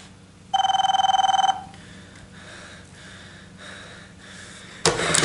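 A telephone rings in a theatre production, one loud electronic burst of about a second, followed by quiet breathing and faint sounds, then a sharp noise at the end.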